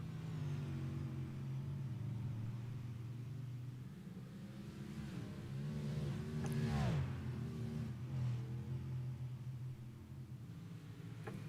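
Dirt track race cars on an oval, engines droning in a steady low roar with rising and falling revs as cars pass, heard from a distance, a commentator faintly audible.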